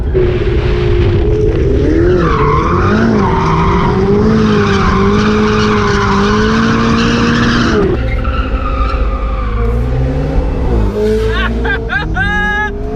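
A car drifting sideways through a drift zone, tires skidding and squealing loudly over a revving, wavering engine, continuous and close throughout.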